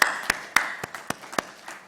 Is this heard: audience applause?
yes